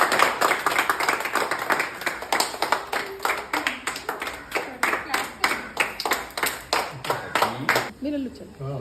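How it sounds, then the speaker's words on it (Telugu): A small group of people, children among them, clap their hands in a steady, fairly loud run of distinct claps that stops abruptly near the end, leaving a brief tail of room noise. "క్లాప్స్ కొట్టండి"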